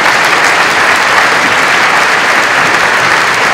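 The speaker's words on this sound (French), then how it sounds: "Oui, je crois qu'on peut l'applaudir aussi." A theatre audience at a mountain-themed stage event in Paris claps steadily and warmly, a dense, loud wall of applause throughout with no voices on top.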